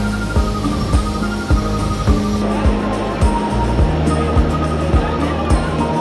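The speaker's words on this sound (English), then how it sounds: "The Catalina Express, leaving Avalon, headed back to Long Beach." Catalina Express ferry pulling out of Avalon harbor on Catalina Island, bound for Long Beach: a steady low engine throb and hum with rhythmic mechanical pulses, continuous and fairly loud throughout.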